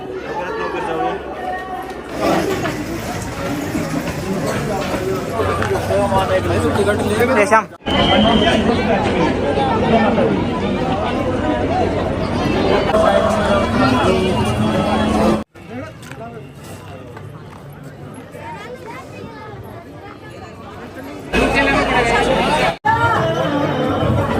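Dense crowd chatter at a crowded temple entrance, a steady babble of many voices close around with nearby talk, broken by a few abrupt cuts, with faint traffic noise underneath.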